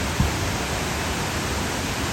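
A small waterfall along Big Creek in the Smokies, a steady broadband rush of falling water heard near and constant, with a brief soft thump at the start and no talking.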